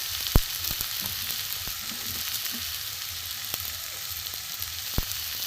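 Jackfruit kachori filling sizzles and fries steadily in a pan as it is sautéed with salt, turmeric, chili, cumin and coriander powders, with a couple of sharp clinks of a spoon against the pan.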